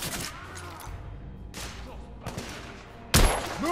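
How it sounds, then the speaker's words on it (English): Gunfire in the video game The Order: 1886, a few broadband bursts of shots with one loud close blast near the end, over a constant background din of battle. "I'm under heavy fire."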